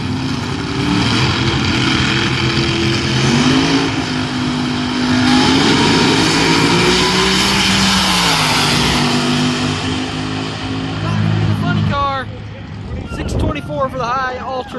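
A High Heaven altered drag car launches and runs down the strip at a nostalgia drag race, a loud sustained engine roar with rising and falling pitch, fading near the end as crowd voices and cheers take over.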